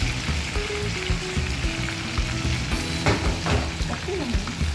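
Chicken fries in a pan for an Indian-style chicken fry, a steady, close sizzle with stirring clatter and a faint bit of background noise throughout.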